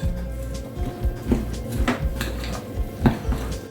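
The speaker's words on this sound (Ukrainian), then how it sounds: "І гарненько нам потрібно це все перемішати" Spoon scraping and clinking against a bowl as flour is stirred into an onion batter, giving a steady run of close, irregular knocks and scrapes, with no talk.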